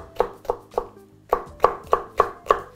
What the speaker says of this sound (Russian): Сейчас буду продолжать нарезать продукты.